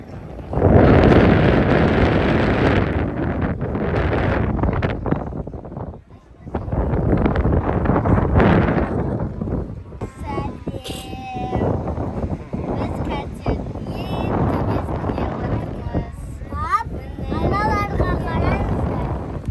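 A motorboat's engine rumbles on the Red Sea off Sharm El Sheikh, heard from the boat's top third deck, under gusting wind buffeting the microphone, with people talking over the noise throughout.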